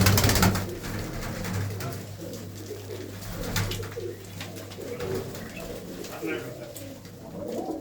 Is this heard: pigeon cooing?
yes